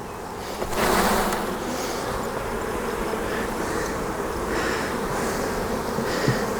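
Honeybees in a managed hive drone in a dense, steady buzz as frames are shaken during a swarm-prevention inspection, a sustained hum with a louder burst near the start and no talking.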